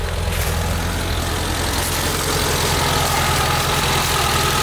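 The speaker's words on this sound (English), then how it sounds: "it's idling by itself." A 1986 Suzuki Samurai engine idles steadily at around 1200 rpm on its own, a close, continuous low rumble with an even rhythm and no talking.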